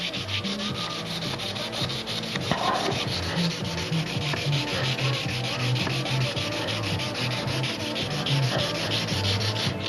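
Steady, rhythmic sandpaper rubbing works along the edges of a carbon fibre wing mold for a Brodak Cardinal model aircraft, a close, continuous scratchy back-and-forth with no voices.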